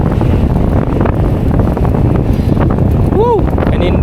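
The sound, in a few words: strong wind on the CCLEX bridge while biking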